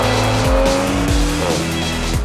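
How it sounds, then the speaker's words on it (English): A BMW M340i with an M Sport exhaust revs hard, its engine note climbing and dropping through quick gear changes, loud and close with a raspy, throaty tone. "this engine also sounds great. It is enhanced by the M Sport exhaust unit"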